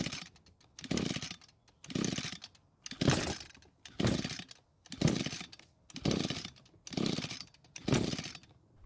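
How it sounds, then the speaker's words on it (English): The starter rope of an Echo GT200R string trimmer is yanked about eight times in a steady rhythm. Each pull gives a loud, close, rasping whir that dies away before the next one, and no speech is heard. "What I'm going to do is pull the starter rope several times, which will then draw fuel from the tank and into the carb."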